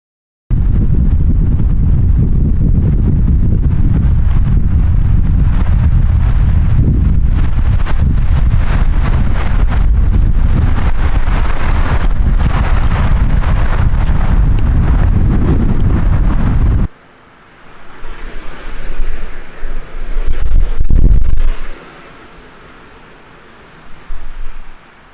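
Strong gusting wind at a campsite, estimated at 50 to 60 mph, roars steadily and loudly for a long stretch, then drops to a softer, uneven blowing with one more surging gust.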